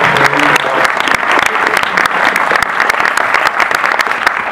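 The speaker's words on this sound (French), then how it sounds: "on peut applaudir très fort Arnaud" A loud, lively burst of audience applause for actor Arnaud at a film debate event, many hands clapping close and steadily throughout.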